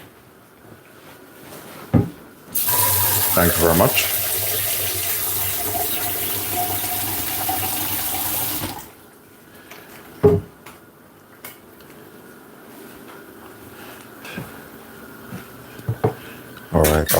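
Cold water gushes from a kitchen tap for about six seconds, a loud steady hiss of running water, framed by clinks of pots and dishes and a brief spoken thanks.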